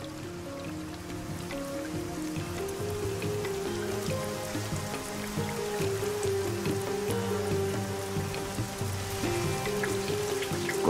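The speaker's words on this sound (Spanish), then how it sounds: "El resultado es la lluvia." Heavy tropical rain pours steadily in the Daintree region of Queensland, a dense continuous hiss of drops on foliage and surfaces, with a low tonal drone running underneath throughout.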